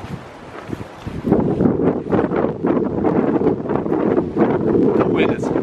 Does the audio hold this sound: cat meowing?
no